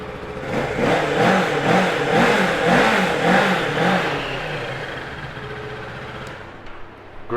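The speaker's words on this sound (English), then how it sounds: "let's give that parallel twin engine a start up" Kawasaki Ninja 650 ABS, a 2020 parallel twin sport bike, runs with a steady throbbing engine note close by, pulsing rhythmically at idle or light revs before easing off near the end; no talking.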